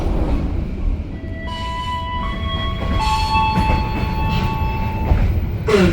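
An old business-class passenger train in Java rolls along with a loud, steady rumble of wheels and carriage noise, while thin squealing tones rise and hold and a brief clank sounds near the end.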